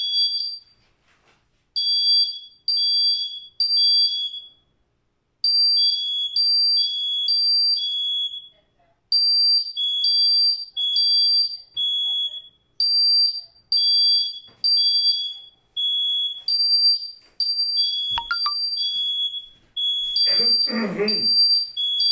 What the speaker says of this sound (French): Il y a un service d'alarme ici. Il doit avoir un senti d'huile.